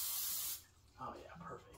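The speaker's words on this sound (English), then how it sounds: "So we need a little spray." Cooking spray hisses into a cake pan in one loud, steady burst of about half a second, followed by a voice talking close by.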